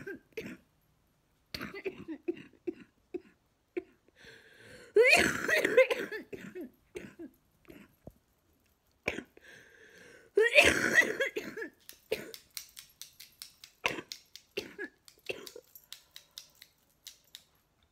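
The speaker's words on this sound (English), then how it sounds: "I still have a cough" Bursts of harsh coughing from a person with cystic fibrosis, two loud fits a few seconds apart, followed by a run of short scraping clicks and small throat noises, fairly close.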